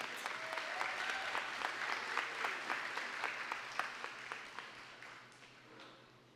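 Scattered audience clapping at an awards gala, fairly faint and distant, with sharp individual claps standing out and thinning toward the end.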